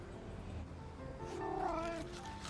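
An orange cat meows in a movie scene, a drawn-out, moderately faint cry over a steady background hum.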